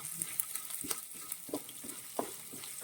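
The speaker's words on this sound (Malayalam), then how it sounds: "ഇഞ്ചി ചോപ്പ് ചെയ്ത് ഇട്ട് കൊടുക്കാം. അതുപോലെ തന്നെ വെളുത്തുള്ളി. ഇത് രണ്ടും നമ്മൾ നന്നായിട്ടൊന്ന് മൂപ്പിച്ചെടുക്കണം." Chopped ginger and garlic sautéing in a pan, a quiet sizzle broken by periodic scraping stirs every half second or so, no talking.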